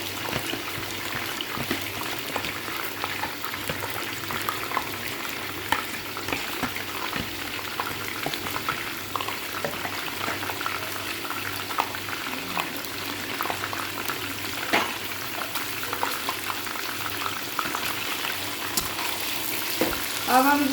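Chicken with freshly ground masala fries steadily in a pot for a chicken masala curry, a continuous close sizzle with occasional scraping stirs and soft clinks and no talk.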